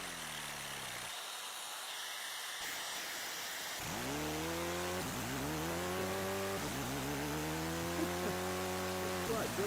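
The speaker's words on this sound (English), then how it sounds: "this guy builds a supercharged 4-speed drill" Supercharged 4-speed drill running, its motor whining up through repeated rising pitch sweeps as it revs and shifts, loud and close after a quieter start.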